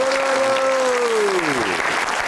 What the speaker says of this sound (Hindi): पहले सारे तालियां बजाइए हमारे जो ढोल पे बैठे हुए हैं